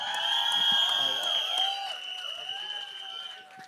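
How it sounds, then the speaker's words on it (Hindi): An audience at a film trailer launch applauds and cheers, with sustained clapping, whistles and whoops that are loud at first and then gradually ease off. "जोरदार तालियां उनके लिए।"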